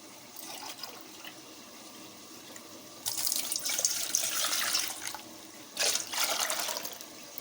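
Water splashes from a tap into a glass being measured for a chicken biryani, in two bursts, the first about two and a half seconds long, then a shorter one after a pause, close by and fairly faint.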